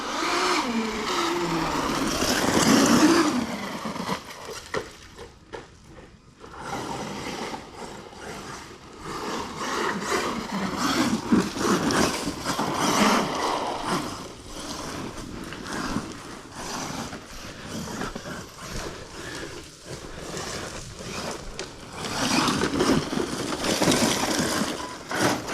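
Close by, an ARRMA Dirt Rat RC car driven by a Spectrum 1250kv electric motor surges and whines in uneven bursts, joined by rattling and clattering from the chassis, with brief dips between the louder runs.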